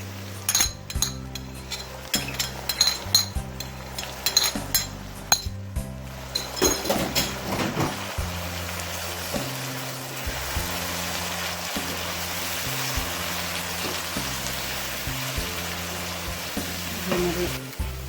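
Onions frying in a pan as ginger-garlic paste is added, loud clinking and clattering of a spoon against the pan first, then a dense, steady sizzle with stirring, under background music.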